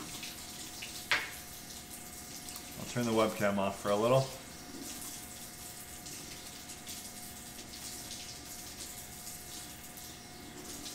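A kitchen tap runs steadily for warm water, a soft continuous gush heard at low level behind a short burst of nearby speech.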